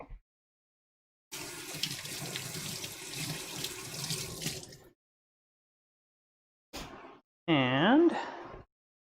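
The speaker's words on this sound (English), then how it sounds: "I'm going to rinse my hands off real quick." Hands rinsed under a running kitchen tap while cooking: a few seconds of steady splashing water, then silence, followed by a couple of brief separate sounds near the end.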